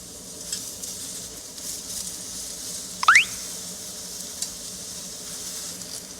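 Zucchini and onion stir-fry together in a pan, giving a soft, continuous sizzle with a brief sharp squeak of a utensil midway, and no one talking.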